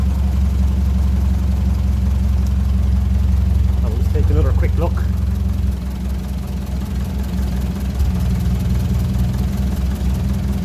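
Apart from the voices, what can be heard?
1957 Ferguson 35 TVO tractor engine idling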